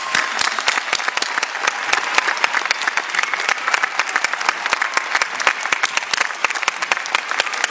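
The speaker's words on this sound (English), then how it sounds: "I was supposed to lead the applause" Steady, loud applause from a large audience at a college commencement ceremony, continuous clapping throughout with no break.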